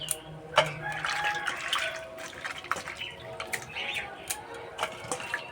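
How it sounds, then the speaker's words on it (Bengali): Cauliflower being rinsed clean under running water and left to drain, with steady splashing and trickling, scattered drips and light knocks of the florets against the bowl, fairly close and continuous throughout. "এবার পরিষ্কার করে ধুয়ে নেব। আর এইভাবে জলটা ঝরিয়ে নেব।"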